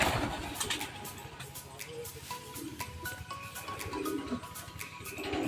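Racing pigeons coo steadily inside a pigeon loft, with soft overlapping calls, wing flutters and light shuffling, close and continuous and without talk.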